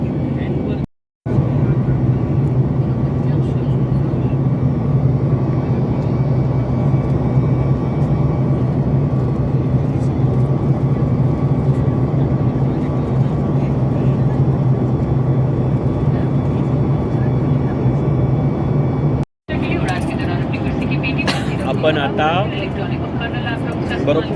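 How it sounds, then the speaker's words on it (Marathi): Inside an airliner cabin just after takeoff, a constant low engine drone and airflow roar fills the scene, broken by two brief cutouts, with people talking over it. "आपल्या विमानाने आता टेक ऑफ केलेला आहे आणि आता आपण आकाशात आहोत"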